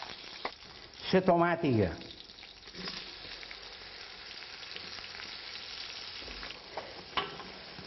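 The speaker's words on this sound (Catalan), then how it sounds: "Posarem els alls, ben picadets, i que s'apotxin en la carn." Chopped garlic and tomato fry with meat in a pan, a faint steady sizzle with light stirring, while a person speaks briefly over it.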